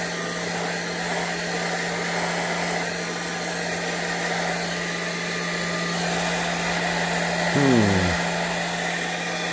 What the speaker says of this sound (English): I'm going to move this hairdryer around quick because I'm trying to keep these colors in an area here.